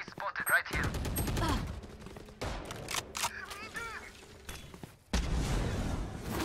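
Gunfire in the Valorant video game during a ranked match, with bursts of rapid shots and sharp cracks near and loud, some mixed with game effects, under brief bits of talk.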